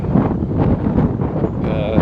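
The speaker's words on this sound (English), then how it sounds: "It's a real windy day." Steady wind buffeting the microphone outdoors, a constant low rumbling roar with gusty fluctuations throughout.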